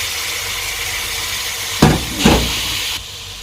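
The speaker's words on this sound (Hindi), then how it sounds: "पानी डालेंगे जी थोड़ा," Water poured into a pan of spinach and spices in a home kitchen, a sudden loud hiss and sizzle in two quick bursts over a steady background of cooking noise.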